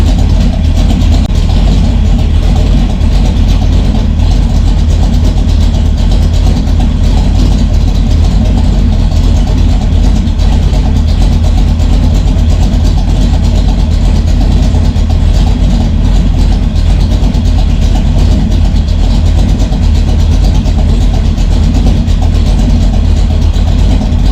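A carbureted engine fitted with a Brawler 650 CFM double pumper carburetor with mechanical secondaries idles low and rich around 900 rpm with the air cleaner on, giving a steady, loud, unbroken rumble with no talking.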